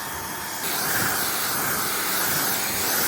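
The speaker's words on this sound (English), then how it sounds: "And all we're gonna do here is just rinse this car down." A steady, loud hiss of a pressure washer nozzle spraying water continuously onto a car, rising slightly in intensity after a moment, with no voices.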